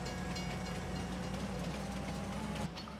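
A freight train in the Farming Simulator 19 game on an alpine map, loading oats, gives a steady low rumbling run with a constant rolling drone that holds evenly throughout, no voices over it.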